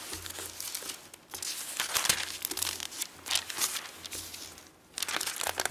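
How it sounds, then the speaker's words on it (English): Paper pages crinkle and rustle as they are pulled apart, with bursts of crumpling and light tearing close by, continuing steadily over several seconds with brief pauses. "My paper is sticking together."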